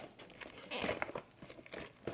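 Tough plastic shrink wrap being torn and peeled off a Black Rose Wars board game box, giving close crinkling and crackling with a louder tearing burst near the middle, fairly quiet overall.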